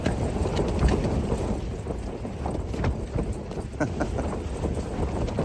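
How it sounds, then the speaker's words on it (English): Strong wind buffets and flaps the fabric of a Hilleberg Unna tent at a wild mountain camp, a loud continuous rumble broken by rapid irregular snapping, heard from inside. "this is the world's flappiest tent"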